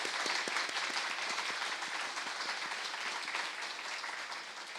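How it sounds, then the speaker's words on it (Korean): A church congregation gives a steady round of applause during a Sunday worship service to welcome first-time attendees and their family, with the dense clapping sustained throughout and tapering slightly at the end. "우리 잠깐 일어나실 때 우리 큰 박수로 환영과 격려하겠습니다"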